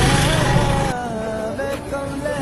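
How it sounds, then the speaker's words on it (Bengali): A Kawasaki Ninja ZX-10R with a full-system exhaust drones loudly and nearby, its engine note shifting in pitch and briefly easing in volume before picking back up. "এই বাইকের আওয়াজ 5 কিলোমিটার"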